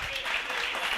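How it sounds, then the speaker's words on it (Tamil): A church congregation at a Sunday Tamil service claps hands together, a dense continuous patter of applause filling the whole moment at moderate level. "கைத்தட்டுங்க போது அவருக்கு"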